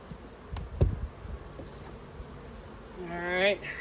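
Agitated honey bees inside a swarm trap buzzing steadily at close range, with thumps and handling noise early and a voice briefly heard near the end.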